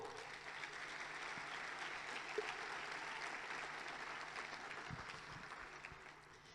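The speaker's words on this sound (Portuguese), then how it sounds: "Você pode aplaudir o Senhor?" A church congregation applauds together, a dense, steady wash of clapping from many hands that stays even and moderately distant, fading slightly at the close.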